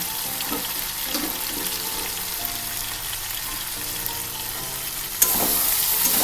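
Pointed gourd (potol) fries in a pan with chili, cumin and coriander powders, giving a steady close sizzle with stirring scrapes. The sizzle turns suddenly louder and brighter near the end.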